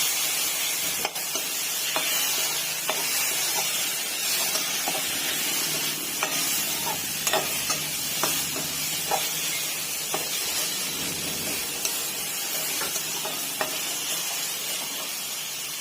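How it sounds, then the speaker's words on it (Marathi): Masala for Maharashtrian katachi aamti roasts in a pan, a soft continuous sizzle and hiss with scattered light scrapes and taps of stirring. "दोन मिनिटांमध्ये तर आपला मसाला भाजून तयार होईल"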